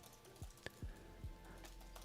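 A computer keyboard being typed on, with a handful of separate, faint keystroke clicks spaced irregularly over a quiet background.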